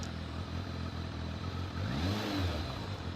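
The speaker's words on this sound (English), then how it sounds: "The engine is roaring" A Kawasaki ZXR 1100 motorcycle engine runs outdoors with a rough, throaty idle and low clatter, then rises briefly into a rev that sweeps up and settles back, fairly close and steady throughout.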